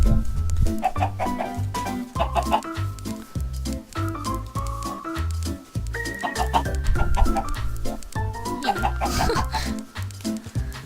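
Chickens in the video game Minecraft cluck in a dense run of short repeated calls, close and loud, with game background music underneath throughout.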